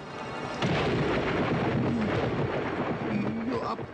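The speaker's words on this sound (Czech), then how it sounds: "Musíme počkat, až bouřka přejde." Thunder rolls through a cartoon storm, opening with a sudden loud crack and then settling into a long, deep rumble that gradually fades. Faint tonal sounds drift over the rumble near the end.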